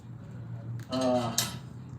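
A cooking pot clanks and scrapes as an onion pie is turned during historic open-hearth cooking, a brief metallic rattle and knock over a low steady hum, with a voice speaking briefly.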